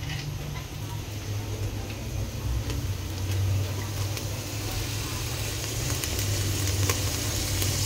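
Oil sizzles in a pan over a low flame, a continuous crackling hiss with faint scattered ticks, close and steady throughout with no voices.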